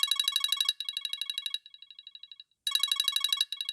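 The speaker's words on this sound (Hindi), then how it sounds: "अचानक ही इसका मोबाइल फोन बजने लगा" Mobile phone ringtone with a bright chiming electronic melody in rapid pulsing bursts, which briefly drops quieter, pauses a moment, then starts again at full level.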